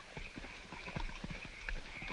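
Two horses with riders approach, their hooves clip-clopping in a loose, uneven rhythm at moderate distance over a low rumble, with no talk.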